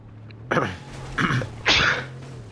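A person sneezes, three sharp, close bursts of breath spaced about half a second apart against a quiet, humming background.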